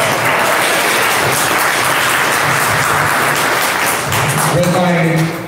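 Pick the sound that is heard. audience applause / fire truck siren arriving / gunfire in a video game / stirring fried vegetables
audience applause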